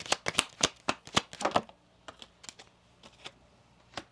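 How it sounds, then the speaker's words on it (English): Tarot cards are drawn and laid out in a rapid run of crisp slaps and flicks, then a sparser series of softer taps, all close and without talk. "Let's get you 2 cards in that top row."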